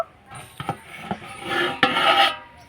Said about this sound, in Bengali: তো এবার ঢাকনাটা তুলে নেব